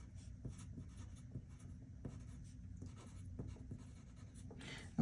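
A pen scratches across paper while a note is written by hand, quiet and close, with short bursts of strokes separated by brief pauses and small taps, and no talking.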